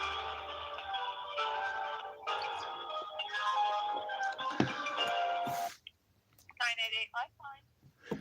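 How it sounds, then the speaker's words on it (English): A telephone rings with a loud, steady, repeating electronic tone for several seconds, then stops and a voice talks briefly. "Can you guys hear the phone?"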